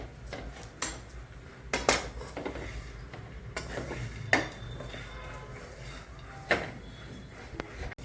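Dry coconut pieces roasting in a pan for fenugreek and edible-gum laddoos, with scattered metallic scrapes and clinks of stirring against the pan at irregular intervals, fairly close, no talking.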